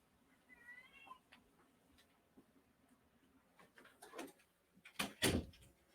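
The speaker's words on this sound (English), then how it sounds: "that was me shutting my door." A room door is shut close by, ending in a sharp, loud thud, after a few faint rustles and a brief high-pitched cry from a cat.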